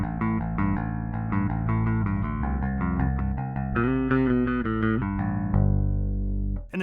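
A Rickenbacker 4003 bass with EMG pickups, neck pickup panned right and bridge pickup left, plays a steady run of clear, ringing notes with rich low harmonics, ending on a long sustained note.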